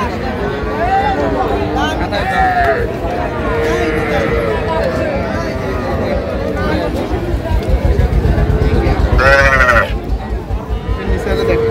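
Cattle and young bull calves at a livestock market in Manikganj, with repeated bleating and lowing calls near and far over a constant busy crowd hubbub, and people talking throughout.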